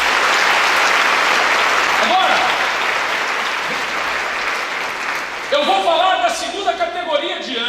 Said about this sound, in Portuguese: vamos aplaudir o Senhor por isso aí